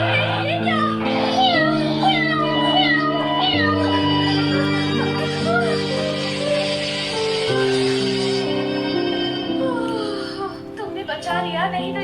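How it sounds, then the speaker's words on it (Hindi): A house cat meows several times in rising and falling calls, close by, mixed with people talking and other sound throughout. "तुम तो बहुत अच्छी कैट हो"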